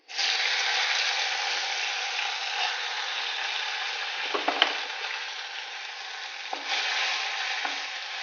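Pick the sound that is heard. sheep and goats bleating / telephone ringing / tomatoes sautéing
tomatoes sautéing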